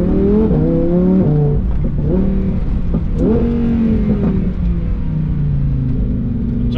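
A supercar engine roars loud and close as it accelerates, pitch climbing and dropping through several quick gear shifts before settling into a steady high drone.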